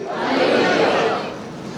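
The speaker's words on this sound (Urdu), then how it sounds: "کل رات سے مشرق سے مغرب تک، شمال سے جنوب تک ہالےلویا کے نعرے گونج رہے ہیں۔" Easter church congregation raising a loud, swelling shout of voices that peaks midway and then settles into a softer murmur.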